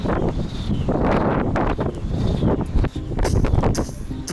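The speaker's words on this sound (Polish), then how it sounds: "zimno jest i wiatr wieje." Strong, cold wind buffets the microphone outdoors in Ukraine at sunset in loud rumbling gusts, steady with brief dips, drowning out everything else.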